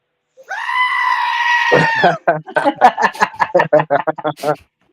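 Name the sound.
goat scream sound effect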